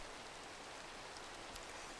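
Steady rain in the video game Minecraft, a soft unbroken hiss of falling drops that fills the whole stretch at low volume, with no voices.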